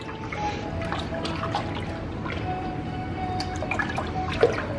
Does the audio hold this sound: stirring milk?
yes